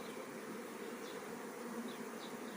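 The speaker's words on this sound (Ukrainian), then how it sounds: "Бджілки працюють, гудуть." Honeybees hum steadily around tall stacks of six-frame hive boxes, a dense continuous drone with a few individual bees buzzing past close by, quiet and with no talking.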